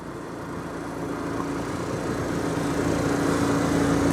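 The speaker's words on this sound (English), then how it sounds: "Got a 4 kW Onan generator running right now, powering everything up inside." A 4 kW Onan generator on a 2007 Coach House Platinum 272RS Class B+ motorhome runs with a steady, low droning hum, continuous and even throughout.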